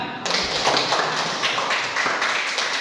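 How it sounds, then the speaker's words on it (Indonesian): Applause from a small group, brisk overlapping hand claps forming a steady, fairly close patter that starts abruptly and continues throughout. "Tepuk tangan."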